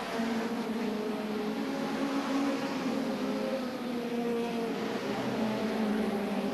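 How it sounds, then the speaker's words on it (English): Hot rod racing cars at the 1981 Hot Rod World Final whip past at speed, a loud continuous engine roar that holds steady throughout with no break in the noise. "Quite a selection of cars whipping through."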